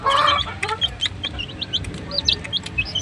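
Gamefowl chickens of several bloodlines cluck and call in a gamefowl yard, a loud close squawk at the start followed by scattered short clucks and chirps from several birds.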